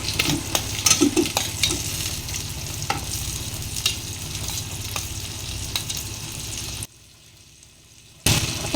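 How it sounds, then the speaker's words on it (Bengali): Vegetables for Bengali shukto fry in turmeric-coloured oil in a pan, a steady broadband sizzle with stirring clatter and scrapes, broken by a brief silent gap before the frying resumes. "এবার আমি সবজিগুলো দিয়ে দেবো।"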